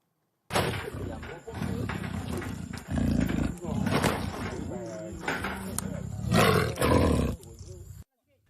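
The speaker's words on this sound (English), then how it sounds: "residents reported hearing the sound of a tiger's roar" A Malayan tiger gives a series of loud, close roars in separated bursts, each a heavy, rasping call followed by brief pauses.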